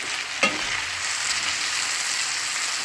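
MSG seasoning is stirred into curry cabbage and saltfish in a hot pan, a sharp utensil clink near the start followed by a steady, close sizzle and frying hiss, with no talking.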